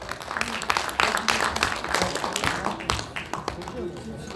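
Audience applause at a football association president's inauguration ceremony in Ansan, a dense crowd of clapping hands rising and fading over a few seconds, close and fairly loud.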